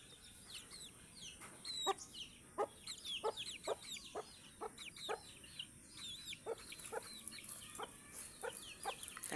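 A chicken clucks in short, soft, irregular bursts close by while pecking at a person's hand, the calls scattered over a quiet background.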